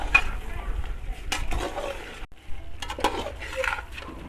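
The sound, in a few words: mixing dry coriander into mutton chaap in pot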